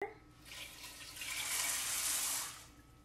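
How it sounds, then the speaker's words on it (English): Water pours into a pot of beans from a tap, a steady broadband rush that swells for about two seconds and then stops, with nobody talking. "and we're gonna add the water"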